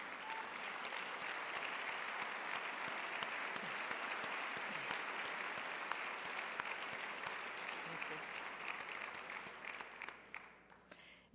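A large banquet audience at a resort breaks into sustained applause for a college football coach, dense steady clapping that holds for several seconds and then thins out and fades.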